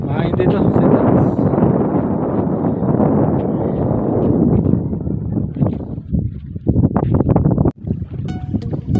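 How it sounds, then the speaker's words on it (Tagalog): Strong wind on a hilltop roars and buffets the microphone in a loud continuous rush that eases slightly toward the end, with a few faint voices beneath it. "Ang lakas ng hangin."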